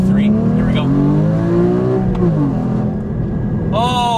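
Porsche 981 Cayman GT4 flat-six engine pulling hard under acceleration from inside the car, a steady rising growl that climbs in pitch, then a sharp high-revving burst near the end.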